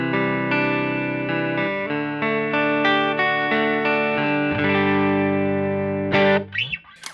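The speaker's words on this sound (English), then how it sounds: "So my clean tone would sound like this on the neck pickup." Clean electric guitar on the neck pickup through a Line 6 HX Stomp, a sequence of sustained, warm chords and arpeggiated notes ringing out clearly and alone, ending with a brief slide and fading string noise.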